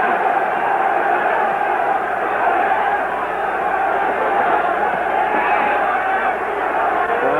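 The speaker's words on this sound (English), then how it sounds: "Crowd quite openly is chanting for action" Boxing crowd at the Muhammad Ali versus Karl Mildenberger fight chanting for action, a steady dense roar of many voices filling the arena without pause, loud and continuous throughout.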